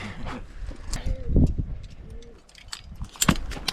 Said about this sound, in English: Those pigeon sounds are so funny.